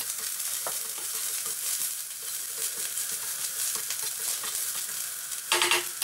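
Lemongrass stir-fries in a hot pan for Vietnamese chicken curry, a steady close sizzle with scraping stirs throughout and a louder clatter near the end, no voices.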